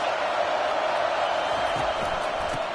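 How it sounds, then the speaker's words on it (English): A steady, loud roar from a stadium crowd in the college football game NCAA 25, holding constant with no clear peaks. Faint commentary sits under it. "This crowd trying to make life miserable for this offense."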